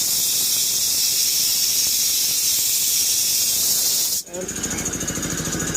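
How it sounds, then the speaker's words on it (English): An air compressor runs loudly, filling a surge protector tank at a work site: a steady, harsh hissing roar that cuts off abruptly near the end, replaced by a lower mechanical rattle and hum. "right now I'm going to be adding air to one of our surge protector tanks. So this is our compressor."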